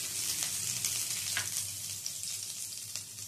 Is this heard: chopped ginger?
yes